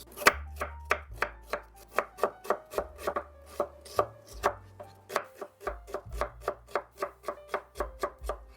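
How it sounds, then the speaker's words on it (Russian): A knife finely chopping onion on a board, about thirty crisp, even strikes in a steady quick rhythm, close and clear with no talk. "Лук режу мелко."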